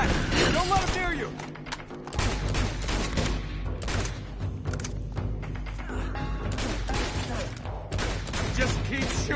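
Sustained gunfire in the video game Uncharted 2: Among Thieves, loud dense bursts of shots and thumping impacts running almost continuously, with no one speaking.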